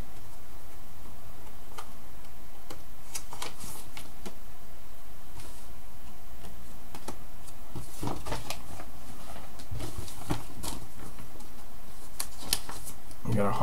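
Pokémon cards being handled and flipped through, quick papery snaps and riffles close up that grow busier toward the end, over a steady background hum.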